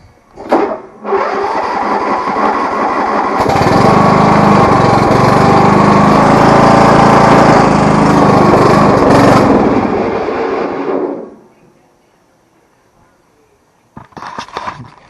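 A John Deere LA100 riding lawn mower engine cranks and catches, then runs loud and steady near the listener for several seconds before cutting out. Brief bursts of sound follow after a short silence.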